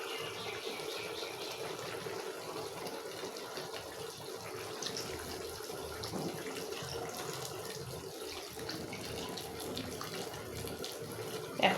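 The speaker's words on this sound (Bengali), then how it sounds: "এখন পানি দিয়ে দিব।" Hot water from a kettle poured into a cooking pot of browned chicken curry in a home kitchen, a steady close splashing trickle running throughout, alone without talk.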